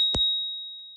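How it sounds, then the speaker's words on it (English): Small mechanical bell on a Rad Runner Plus e-bike struck once, a bright ding that rings on and fades slowly, alone and close. "I operate the bell."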